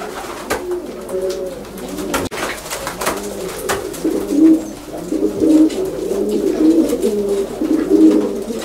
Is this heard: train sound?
no